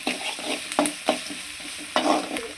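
Onions sauté with rock salt in a pan, a soft sizzle under repeated scraping stirs. The spoon strikes come at uneven intervals and sound close.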